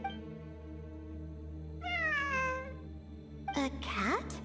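In a ruins-exploration video game, a cat meows twice over a steady low musical drone, first with a drawn-out falling cry and then with a sharper, rising-and-falling call, with no speech heard.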